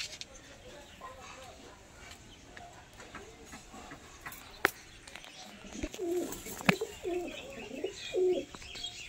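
Pigeons at a home pigeon sale coo softly in repeated low throaty phrases, growing more frequent in the second half, alongside chirps, a few sharp knocks and a voice talking.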